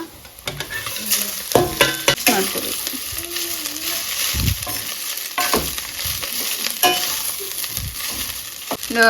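Patrode, the Tulunadu steamed colocasia-leaf roll, gets stir-fried in a hot tempering pan: a continuous sizzle broken by repeated spatula scrapes and clinks of metal on the pan, close and fairly loud.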